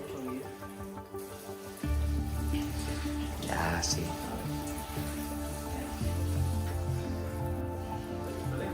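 Steady running water, like a hose or tap, pours while a rescued dog gets a bath, a continuous close splashing hiss with people talking over it.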